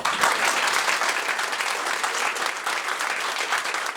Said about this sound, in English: give a warm, thankful round of applause to my marvellous guest, Katie Murphy